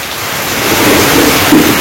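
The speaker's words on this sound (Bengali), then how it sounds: "তো ভালোই জোরছে বৃষ্টি নামছে।" Heavy rain pours steadily in a Bangladeshi village during the rainy season, a dense, continuous hiss that swells slightly louder partway through and stays close and enveloping throughout, with no voices.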